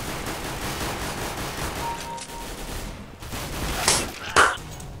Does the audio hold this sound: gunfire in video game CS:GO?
yes